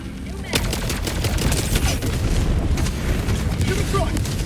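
A Hellbomb detonates in a combat video game, a loud sustained roar of blast and debris with gunfire-like crackle rising from about half a second and rumbling on to the end, voices shouting over it.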